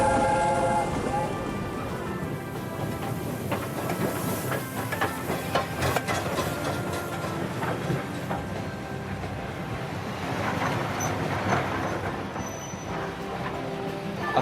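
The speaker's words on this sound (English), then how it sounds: "Sir Handel pulled them smoothly to the top station and back." Steam train running along a railway line, rhythmic chuffing and clattering with hissing steam and metallic clanks, layered under ambient background tones.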